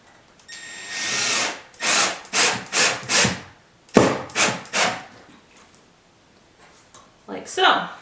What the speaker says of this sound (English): just gonna drill this in